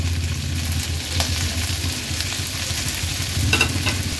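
Cashews, a ginger piece, dried red chillies, garlic cloves and melon seeds with tomatoes sauté on a high flame, giving a steady close sizzle broken by brief scraping stirs.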